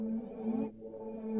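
A spider-themed melodic accent sample played unpitched in FL Studio, a sustained low tonal tone with a brief dip midway, loud and alone for just over a second.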